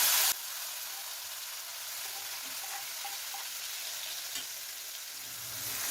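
Finely chopped tomatoes sauté in hot oil in a pan for cauliflower sabji, giving a steady, even sizzle with a soft hiss throughout and a faint stir near the end.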